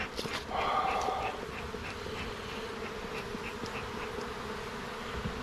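Honeybees from an extremely weak hive buzz in a steady, dense drone close by, with a brief louder swell early on and no talk.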